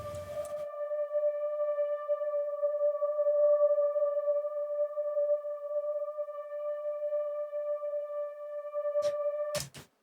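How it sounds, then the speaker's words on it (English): A synthesizer with hyperdimension, chorus and reverb effects holds one smooth, sustained note with a soft shimmer for about nine seconds, then stops abruptly with a couple of clicks. "we add some hyperdimension, some chorus, and some reverb"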